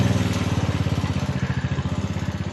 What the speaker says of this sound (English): You can probably hear we're having a lot of trouble with the lawnmower this year.